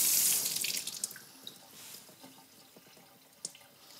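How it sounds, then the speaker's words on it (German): Water sprays at a constant flow onto a car paint test panel, a loud hissing rush at first that fades into faint trickling and scattered drips. "wie wir die Lackfläche beregnen, ja, mit konstanter Durchflussmenge, eine gewisse Fläche"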